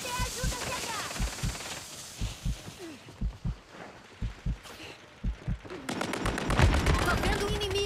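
Gunfire in Call of Duty pops out in a string of short, separate shots spaced about half a second apart, followed by a louder, denser burst of automatic fire near the end; a voice talks briefly over the start.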